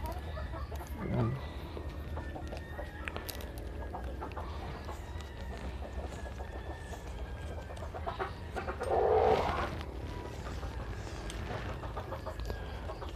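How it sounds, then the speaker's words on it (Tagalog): Backyard chickens cluck nearby amid steady background noise, with a louder squawking burst partway through. "medyo maingay yung manok natin"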